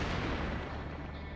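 Naval ship guns firing in the video game World of Warships, a brief, heavy, rumbling blast that stays loud and sustained throughout.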